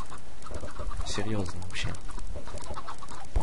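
Chickens cluck in Minecraft after a stack of eggs hatches, with a short burst of clucking close up, mixed with game noise and someone talking over it.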